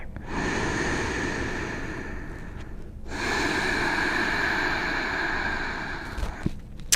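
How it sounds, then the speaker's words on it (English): Deep, steady breathing during a yoga class: two long, sustained breaths, each a broad airy rush lasting about three seconds, close and fairly loud, with a brief pause between them and no talking. "Long inhales, complete exhales."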